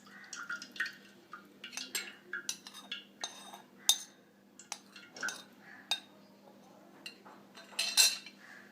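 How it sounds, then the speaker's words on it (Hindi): Masala and oil stirred together in a hot pan, with a utensil scraping and clinking against the metal in irregular bursts, some sharper knocks, and a faint steady hum underneath. "मसाला और ऑयल मैंने अच्छे से मिक्स कर लिया है।"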